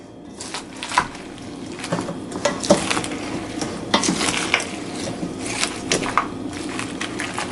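Wild berry salad being mixed in a bowl, a run of irregular clinks and scraping knocks of a utensil against the dish, close and moderately loud, with soft shuffling between strikes.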